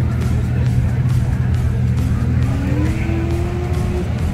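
Drift cars idle and rumble around a drift event parking lot in Japan, a dense low engine drone with one engine note slowly rising in pitch midway, while faint crowd chatter runs underneath.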